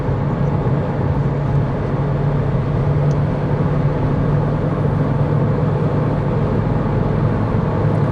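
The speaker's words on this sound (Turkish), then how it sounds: "Evet, yokuş yukarıyız. Gaza basıyorum, hızlanıyor." A Hyundai Accent Era 1.4 running on gas accelerates uphill at highway speed, its loud, steady engine drone heard from inside the cabin, mixed with road and wind roar and holding a constant hum throughout.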